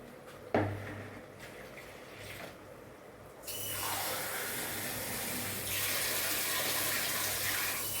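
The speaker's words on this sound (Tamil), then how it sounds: "இன்னும் ஒரு ரெண்டு கிளாஸ் தண்ணி ஊற்றிக்கலாம்" A clunk, then about two glasses of water run into a cooking pot for mint rice, the flow growing fuller and louder into a steady gushing pour that continues to the end.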